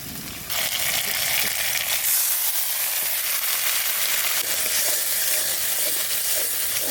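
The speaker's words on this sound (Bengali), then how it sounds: "আদা রসুন দেওয়ার পরে একটু ভালো করে কষাই দেবো। এবার দেবো জিরে, ধনে আর শুকনো লঙ্কা বাটা।" Ginger, garlic, cumin, coriander and dried chili paste sauté in hot oil while Ilish is cooked, producing a loud, steady, close sizzle that jumps up suddenly and then holds constant.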